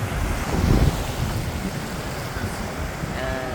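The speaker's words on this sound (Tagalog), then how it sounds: "may hangin din. Pero hindi naman ganun kalakas." Wind blows over the beach at Boracay's Station 2 at sunset, a steady broadband rush mixed with soft surf, with a brief voice speaking near the start.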